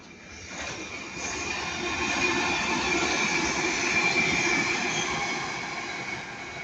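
A Class 331 electric train rumbles past at Ardwick, its steady roar swelling and then easing, with a faint metallic whine from the wheels and no voices.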